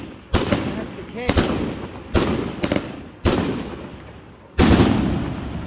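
A firework cake fires off a series of loud, sharp booming shots at irregular intervals, each ringing out and fading before the next, with voices in the background.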